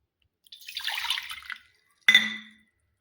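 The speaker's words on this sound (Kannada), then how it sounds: "ಈ ಬಟ್ಲಲ್ಲಿ 2 ಬಟ್ಲ ನೀರು ಹಾಕೋತೀನಿ ರೀ" Water is poured into a bowl of jowar flour for making mudde, with a short splashing pour followed by a sharper splash and clink, close and alone.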